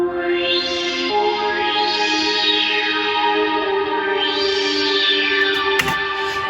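A looping synth line, run through an X-RL7 effects unit with sweeping filter modulation, chorus and heavy reverb, rises and falls in steady arcs over a sustained drone, with a sharp hit near the end.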